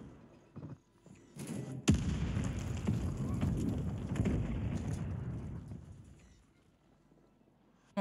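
Mortar artillery fire in Call of Duty Warzone on Rebirth Island: one sharp, loud blast followed by a long rumbling roar that fades out over several seconds.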